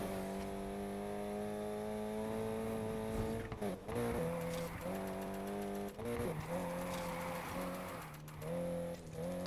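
Car drifting in Need for Speed Heat: a loud, steady engine drone with harmonic whine, shifting pitch as the car slides and revs, with brief dips and surges in throttle throughout.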